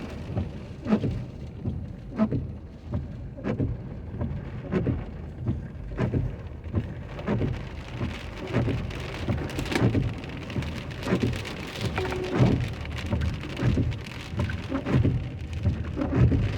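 Rain falls outside a car in Troy, Alabama, a steady patter of drops drumming on the roof and glass, with heavier irregular thumps and a low rumble throughout, no voices.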